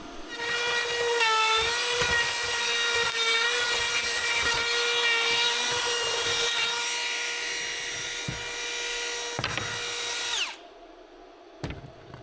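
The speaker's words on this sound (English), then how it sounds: "we take a little hand router. It just traces this with a tracer bit" A high-pitched whining hand router with a tracer bit cuts steadily for about ten seconds, its tone wavering as it works, then spins down and stops, followed by a few knocks.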